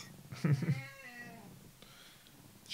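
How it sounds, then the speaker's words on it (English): A cat meows loudly and close, a couple of strained, drawn-out cries followed by quieter mewing, with a brief sharp noise at the very end. "Yeah, it was the cat."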